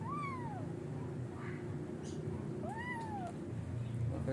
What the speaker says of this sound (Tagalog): yung kulit kong kuting.